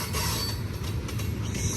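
San Joaquin Valley Railroad locomotives move a train along a main track, a loud, close, continuous rolling rumble with clattering wheels and a faint squeal.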